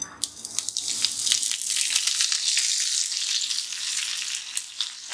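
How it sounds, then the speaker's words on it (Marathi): Fenugreek leaves hit hot ghee in a pan and crackle into a loud, dense sizzle that holds steady throughout with bright spattering pops, no voices over it. "हे तूप गरम झालं की आपण हे मेथीची भाजी टाकूया"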